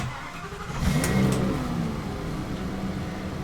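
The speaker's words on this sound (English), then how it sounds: "start our engine" An RV's engine cranks and catches, surging briefly in a rev before settling into a steady, close idle.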